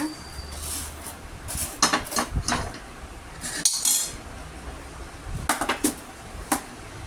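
Roasted rice tipped from a hot pan into a dish, a run of scattered grainy rattles and clinks in short bursts, close and fairly loud over a steady background hiss.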